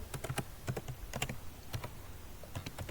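Rapid, uneven keystrokes on a computer keyboard while code is entered in RStudio, clicky taps close by in short bursts with no talking.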